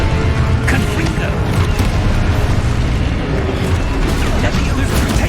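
Fiery Confringo spell blasts in the Hogwarts Legacy video game, a dense barrage of booming explosions rumbling continuously under shouted spell incantations and combat noise.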